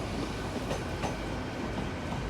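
A British Rail Class 800 IET train arrives at Exeter St David's station on a summer Sunday, a steady rumbling roll with rhythmic wheel clatter, fairly close, with no talk.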